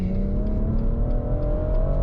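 A BMW M140i hatchback's engine pulls hard through a rising rev sweep while overtaking a slower car, a loud, steady, close-up drone that climbs in pitch without a break.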